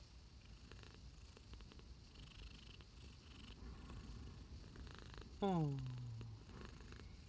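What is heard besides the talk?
cat purring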